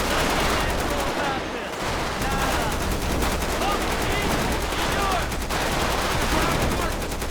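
Heavy, sustained automatic gunfire from Grand Theft Auto V plays as loud, rapid repeated shots with a brief dip in the middle. Players talk faintly underneath.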